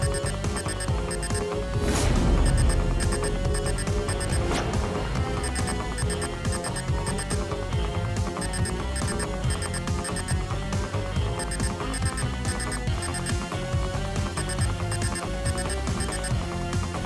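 A steady electronic beeping, alarm-clock-like and not from a bomb, repeats in a fast regular pattern for over fifteen seconds, loud and continuous over a dense background of music and noise.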